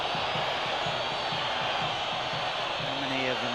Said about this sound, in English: the reaction of the crowd to Uruguay's tactics is clear for all to hear